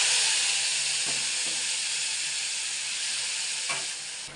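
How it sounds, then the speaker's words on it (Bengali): A spice tempering crackling in hot oil in a pan as lentils are added, a loud continuous close sizzle with a few sharp bursts of spitting, easing slightly at the end. "এদিকে ডালটা দিয়ে দেবো, ফোড়নটা ভাজা ভাজা হয়ে গেছে।"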